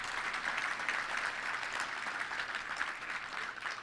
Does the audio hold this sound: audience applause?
yes